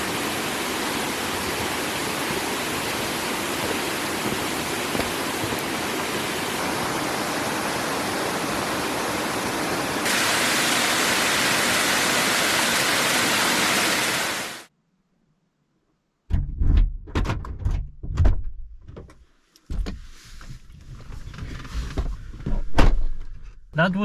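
Water rushes at a dam in a loud, steady roar for about fifteen seconds, then cuts off; afterward come scattered bumps and handling thumps.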